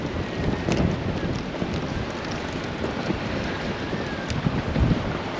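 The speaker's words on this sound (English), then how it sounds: "I can't hold the camera still, it's so windy out here." Strong wind buffets the microphone aboard a sailboat at anchor, a steady loud roar with gusty swells and faint rigging tones throughout, no talking.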